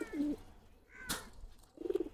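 Silver Giribaz and other pigeon breeds coo in a loft: a low burbling call near the start and another toward the end, separated by a quiet gap with a brief rustle.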